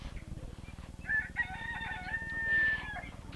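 Chickens crow and cluck in cages at a farm with rabbits nearby, a rooster's cock-a-doodle-doo rising clearly over a steady low rumble, with a second crow later and scattered clucks.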